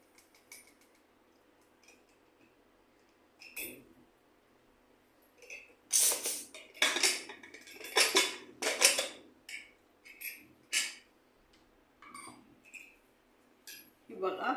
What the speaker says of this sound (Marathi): आपण कुकर उघडून बघूया.